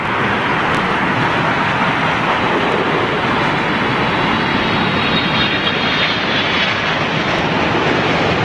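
A China Eastern airliner arriving at Heathrow in stormy weather gives a loud, steady engine roar with broad rushing noise that holds throughout, mixed with wind.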